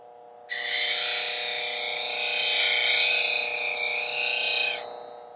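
A knife blade is ground on a sharpening stone in one steady, continuous stroke of bright, raspy friction lasting several seconds, close and fairly loud over a faint constant hum.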